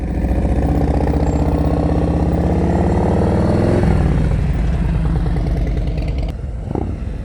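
A motorcycle engine runs steadily at low revs as the bike creeps through a slow-speed cone course in practice, its loud, continuous throb shifting slightly in pitch as the rider modulates throttle.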